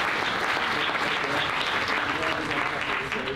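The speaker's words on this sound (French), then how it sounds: "J'aimerais vous demander un tonnerre d'applaudissements pour Laurent, s'il vous plaît." A thunderous round of applause from a seminar audience in a conference room, dense and continuous clapping throughout, with some crowd murmur mixed in.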